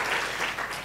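A short burst of audience applause at a public policy school anniversary conference, many hands clapping in a continuous, fairly soft wash that holds steady throughout.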